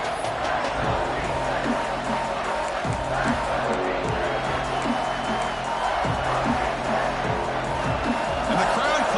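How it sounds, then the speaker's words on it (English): College football stadium crowd at Oklahoma versus Georgia roaring steadily behind the defense in the red zone, a dense continuous wall of cheering and whooping, with a commentator talking over it. "And the crowd coming to life here, trying to help this defense down in the red zone"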